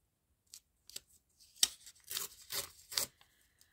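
Scissors trimming paper for a junk journal, a series of close, crisp snips and crinkly paper rustles in a quiet room, irregular and fairly soft.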